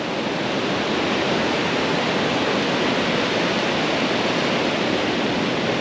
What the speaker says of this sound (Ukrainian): Ось ви бачите, як хвилі підходять аж до моїх ніг.